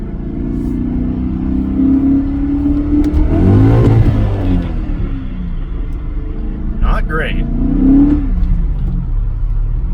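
A 22- to 23-year-old BMW M5 with a 5.0L V8 and 6-speed manual, needing work, pulls hard in second gear merging onto a highway, its engine climbing in a loud revving surge over cabin rumble while people talk.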